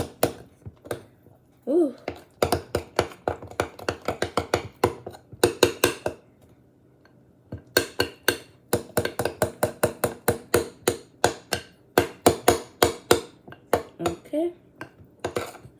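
Cake batter for a banana chocolate chip cake is stirred hard in a bowl, giving a long run of quick, sharp clinks and scrapes against the bowl in steady rhythm, with a couple of short pauses and brief spoken exclamations.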